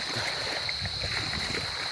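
Steady sea water rushing and gurgling fills the clip outdoors on an island shore, a constant wash with no pauses and no voices.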